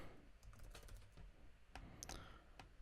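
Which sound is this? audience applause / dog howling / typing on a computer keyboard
typing on a computer keyboard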